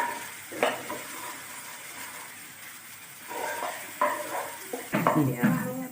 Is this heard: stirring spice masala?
yes